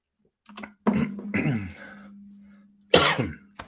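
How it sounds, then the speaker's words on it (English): A person coughs several times close by, with a throaty, rough edge and a steady hum underneath. "I apologize for my cough"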